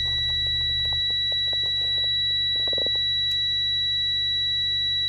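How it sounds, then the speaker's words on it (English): Audible low-air-pressure alarm in a coach's air brake system, a continuous steady high-pitched tone sounding throughout, with scattered clicks and light knocks from the vehicle underneath. "the air alarm, audible alarm, and the visual red light alarm to both go off."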